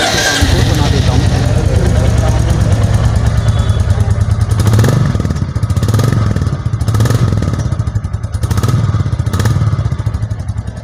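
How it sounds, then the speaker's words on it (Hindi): A 2023 Royal Enfield Classic 350 in Halcyon Black idles with a loud, close, steady low exhaust thump, its rhythm swelling slightly with light throttle blips toward the end. "तो सबसे पहले मैं आपको इसके एग्जॉस्ट के साउंड को सुना देता हूँ।"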